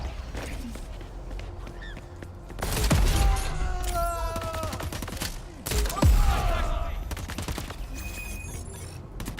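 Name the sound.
gunfire in the video game Crackdown 3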